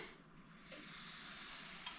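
A soft, steady sizzle of batter frying in a pan, quiet and continuous, with a faint clink near the end.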